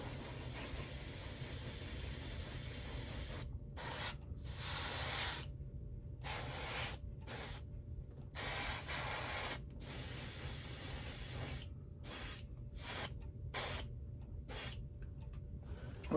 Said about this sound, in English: So I'm gonna put a little primer on this nozzle here.